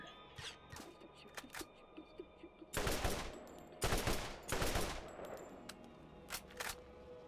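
Bursts of automatic gunfire from the Sentinel, a weapon in the video game Borderlands: two loud sustained volleys in the middle, framed by scattered shorter shots and faint game ambience.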